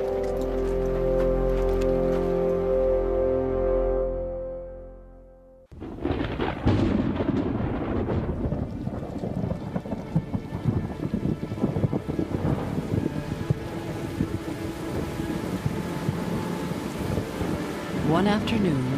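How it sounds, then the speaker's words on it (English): A violent thunderstorm over Quebec: a loud, steady roar of wind and rain, after a brief lull, with rumbling thunder and gusts battering close by. "a violent thunderstorm breaks over Quebec"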